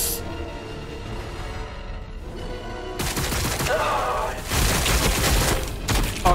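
Rapid volleys of gunfire in the Warhammer 40k Battlesector strategy game crackle in dense, overlapping bursts that swell louder in the second half, with no speech over them.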